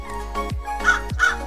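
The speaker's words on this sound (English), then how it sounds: "Crow." A crow caws in a few short, harsh calls spaced about half a second apart, close and moderately loud over a low steady hum.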